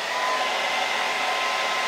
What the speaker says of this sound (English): So the first thing that you can do is use a hairdryer because this does not get as hot as one of these heat guns.